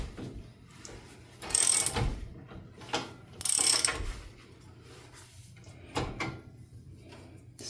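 A ratchet tightens brake bolts during a rear disc brake conversion on a 1965 Chevelle, giving short bursts of metallic clicking with pauses between, close and fairly quiet.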